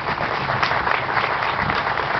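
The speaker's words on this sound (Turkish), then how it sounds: "Bir alkışla onun için rica ediyorum." Audience at a solid waste landfill facility opening ceremony applauds, a dense steady wash of clapping from many hands, continuous and fairly loud for the whole stretch with no voices over it.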